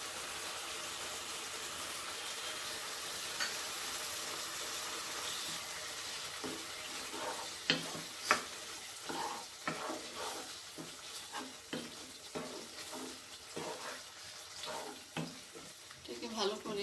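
Chopped tomato being stirred and fried in a pan for a rajma prawn curry, with a steady sizzle under repeated scraping and stirring strokes that grow louder and more frequent toward the end.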